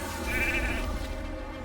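Sheep bleating from a sheep transformation in the Raid video game, a steady wavering bleat over dense game noise, fairly loud and continuous for a moment.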